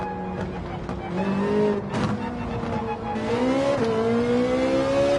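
Race car engine in the GT7 video game at Suzuka Circuit, loud and close, revving and accelerating through rising gear pulls with brief lifts between, continuous over the full stretch with a voice talking faintly underneath.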